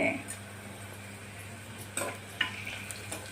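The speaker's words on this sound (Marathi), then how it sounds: "दालचिनीलाही छान परतून घेणे आणि एक पाच काळे मिरे घालणे व पाच लवंगा घालणे" Cinnamon, black peppercorns and cloves sizzle softly in a pan, with a few clinks of a spoon against the metal as the whole spices are stirred, close and fairly quiet.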